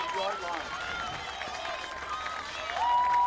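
High school football crowd at a McKinney North vs Denison game cheering and applauding, a broad roar that swells toward the end while a commentator talks over it.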